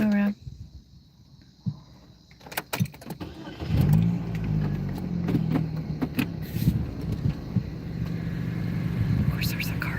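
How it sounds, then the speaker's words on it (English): A car on a lake road approaches and passes, its engine and tyre rumble swelling from quiet to a steady nearby drone, with scattered knocks and clatter near the recorder early on. "Of course, there's a car coming."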